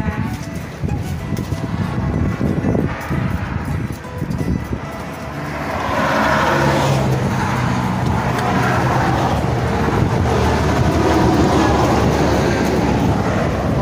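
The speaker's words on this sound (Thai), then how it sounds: "เราได้ยินเสียงรถตลอดทั้งวันเนา" Cars pass along a road beside a roadside shaved-ice stall in Chian Yai, a continuous traffic rumble that swells as vehicles go by, with faint birds and no talk.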